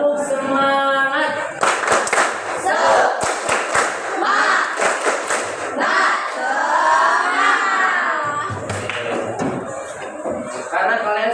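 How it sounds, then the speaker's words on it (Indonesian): A school class performs a rhythmic spirit clap chant, with fast bursts of sharp group claps alternating with children shouting and chanting together, loud and close in a classroom. "Tepuk semangat."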